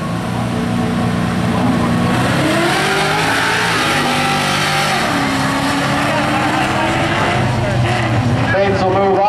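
A Mustang and a Pontiac race side by side in a drag race at Atlanta Motor Speedway, their loud engines revving and climbing in pitch together for the whole run, with an announcer talking over them.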